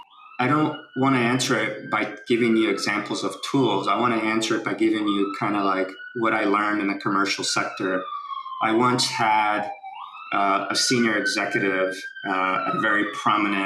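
Emergency vehicle sirens wail in New York City, their rising and falling tones sounding steadily beneath a man's continuous speech.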